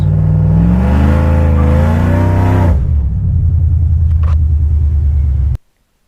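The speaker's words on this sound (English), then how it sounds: "kind of brake boost this and show you kind of how it reacts with this new converter before it spins the tires" A cammed 6.0 swapped Chevrolet Silverado pickup is brake boosted with a new torque converter. The engine rises from a loud, close, lumpy roar into a steady throbbing rumble, then cuts off abruptly near the end.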